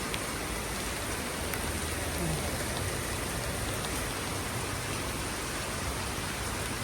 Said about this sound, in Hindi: ये देखिए कितनी तेज़ बारिश हो रही है